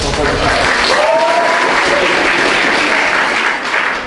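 Church congregation breaking into loud, continuous applause, a thick wash of many hands clapping close and full, with a voice briefly heard over it.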